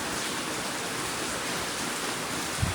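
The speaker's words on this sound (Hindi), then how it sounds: "ये देखो बारिश कितनी तेज़ हो रही है गाइस" Heavy rain pours down steadily in a dense, even hiss, loud and continuous with no voices, a brief thump near the end.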